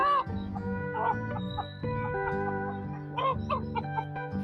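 A village country rooster clucks in short, throaty bursts, several calls in a row, close by and fairly soft, with a little background movement between them.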